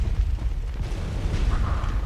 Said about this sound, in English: That's a powerful cannon.